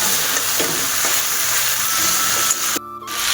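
Chicken pieces with chopped tomato and chillies sizzle in a hot pan while a spoon stirs and scrapes, the frying steady and loud until a sudden brief drop near the end.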